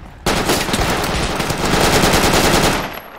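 Rapid automatic gunfire from a Project Reality battle rattles close and loud in a steady stream of shots for about three seconds, then cuts off.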